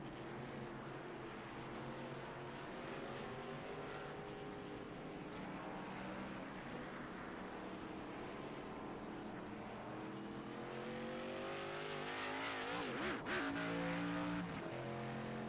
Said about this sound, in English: As you see some other cars come down pit road here